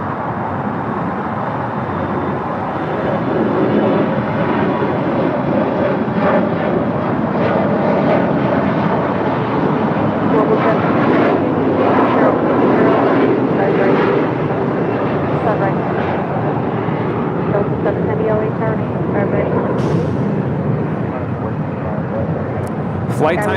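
An airliner on short final to runway 24 right makes a sustained, loud roar of jet engines that swells and rumbles steadily for over twenty seconds, with people talking over it.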